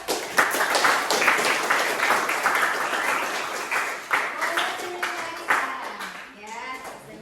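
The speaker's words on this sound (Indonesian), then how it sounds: "Beri tepuk tangan dong." A classroom of students claps together after a teacher's request, a dense burst of applause that fades toward the end while voices talk over it.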